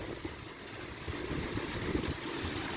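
Fabric curtain flapping in spring wind and rain at a reservation home, a steady broadband rushing flutter that holds for a few seconds with no voices.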